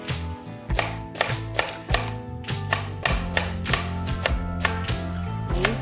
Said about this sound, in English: you just know how to chop things